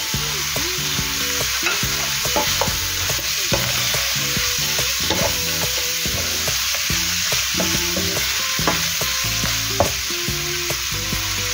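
Mushrooms stir-fried for chow mein hiss in a steady, loud sizzle, with repeated scraping and stirring strokes from a utensil throughout.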